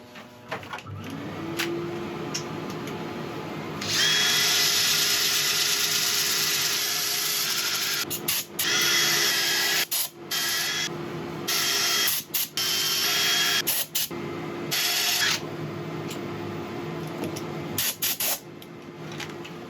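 A lathe hums steadily while sandpaper hisses against a turning redwood (sequoia) piece in irregular bursts, some several seconds long, others brief.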